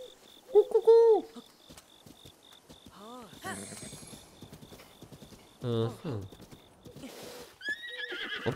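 A horse in the video game Zelda Breath of the Wild gives several neighs and whinnies over intermittent clip-clopping hooves, with a voice heard briefly among the game sounds.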